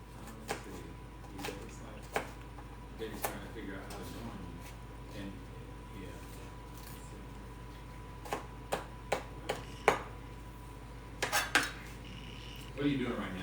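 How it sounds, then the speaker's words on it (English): Knife chopping a red onion on a board in a home kitchen, with scattered sharp taps and clicks, some in quick bursts, over a steady low hum and people talking. "Oh, I'm actually chopping a red onion."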